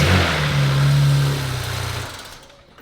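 Cheap BMW 335i engine cranking and catching on its first start, with a loud, close whirring crank that rises into a running engine note before fading out.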